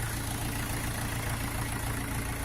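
A Jinma 404 tractor engine idles steadily, a close, continuous low diesel rumble with an even knocking pulse and no other sounds over it.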